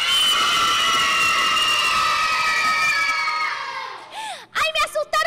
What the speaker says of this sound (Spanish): quiero un fuerte, fuerte aplauso, pero con grito